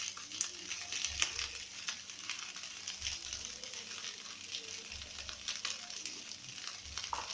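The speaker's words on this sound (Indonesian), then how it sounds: "Kemudian masukkan sayur wortel sama buncis yang sudah saya rebus." Boiled carrots and green beans fry with fried rice in a pan, making a soft, low sizzle broken by dull, repeated thumps of stirring.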